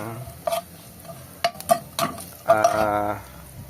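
Chicken feet sizzle in a hot pan while a utensil stirs and scrapes, with sharp clinks of metal against the pan and a louder burst of frying near the end, no talking.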